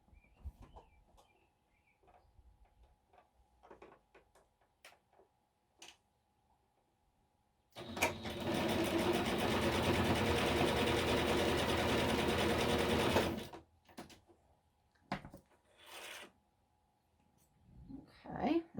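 A sewing machine runs steadily for about five seconds, stitching a small zigzag on a junk journal pocket made from Tim Holtz packaging. It is fairly loud and close, set between quiet handling sounds and soft rustles.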